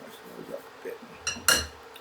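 A metal spoon clinks against dishes while freeze-dried jalapeno popper filling is portioned, with soft scraping before two sharp, bright clinks close by, the second the loudest.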